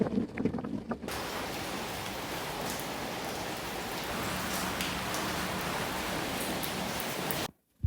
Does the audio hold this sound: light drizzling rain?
yes